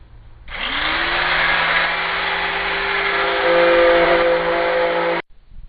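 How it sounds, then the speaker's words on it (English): A power sander works a wooden chess set. A close, steady whirring hum starts abruptly, holds nearly five seconds at an even level and cuts off sharply. "yeah, more sanding."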